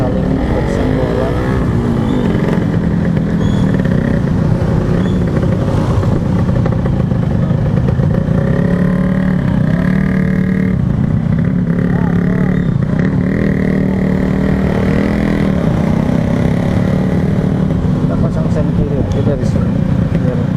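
Cars and motorcycles jostle to merge in busy Bintaro street traffic in Indonesia, a steady loud drone of engines with occasional revving rising above it, continuous throughout with voices talking over it.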